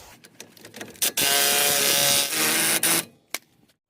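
A power tool bottoms out and tightens the new 36 mm axle nut on a 2018 Dodge RAM 1500 during a CV axle replacement, with one sustained loud burst of about two seconds followed by a brief second whir and a few metallic clicks.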